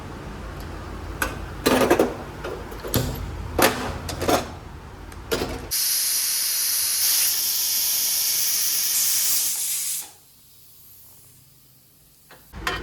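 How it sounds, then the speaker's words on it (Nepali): A pressure cooker whistle shrieks loud and steady for about four seconds, a high continuous hiss of escaping steam set against kitchen clatter, then cuts off into near silence. "कुकर बन्द गरेर स्वाटै दुई सिटीमा त अलि हुन्न कि 3 सिटी लगाइदिने हो"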